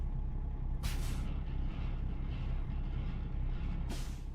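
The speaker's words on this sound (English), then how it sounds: "Parking brakes." Truck parking brakes in American Truck Simulator let out two sharp hissing bursts of released air, one early and one near the end, over a low steady engine idle.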